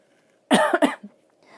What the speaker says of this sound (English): Sorry, I was trying not to cough.